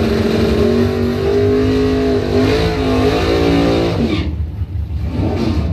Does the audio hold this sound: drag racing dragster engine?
yes